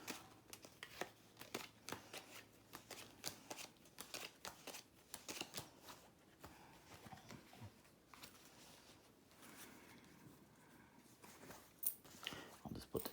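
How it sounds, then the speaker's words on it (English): Playing cards dealt out to two players at a table during a Double Down card game, a very quiet series of light flicks and taps in an irregular rhythm, close and soft. "we're going to deal 5 cards to each player"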